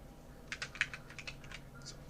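Someone types on a computer keyboard, about ten light keystrokes in a quick, uneven burst. The clicks are soft and close against a faint background hum.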